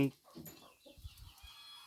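A chicken clucks in short, soft bursts close by on a rural farm, with a voice talking over it.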